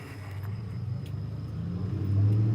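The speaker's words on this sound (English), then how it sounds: "that loud truck that just drove by" A loud truck passing close on a quiet street, its deep engine rumble swelling and peaking toward the end with no voices over it.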